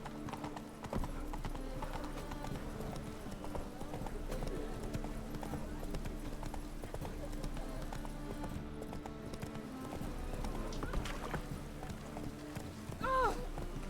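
Horse hooves clip-clop steadily at a gallop in Witcher 3, a continuous rhythmic pounding under game music and ambience, with a brief neigh late on.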